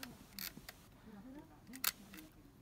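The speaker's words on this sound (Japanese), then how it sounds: "2回か3回からシャッターを押すとちょうどいいです。" Olympus Pen EES half-frame film camera shutter releasing, a few sharp quiet mechanical clicks with a soft film-advance whir between them, close and otherwise near silent.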